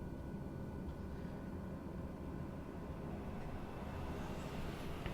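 A King Air 350i turboprop taxiing in Microsoft Flight Simulator gives a steady, low engine drone. It stays even and unbroken throughout, with no voices.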